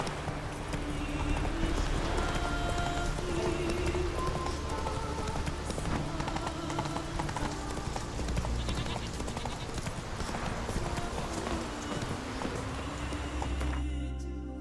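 Horse hooves clip-clop steadily on the ground in The Witcher 3, a continuous close trotting rhythm over ambient game sound, with no talk during the run.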